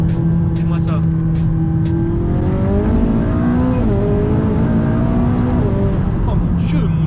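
McLaren 570S tuned to 790 horsepower with an Armytrix exhaust accelerating hard, a loud close engine note rising in pitch through the gears with a brief dip between shifts, while people talk excitedly over it.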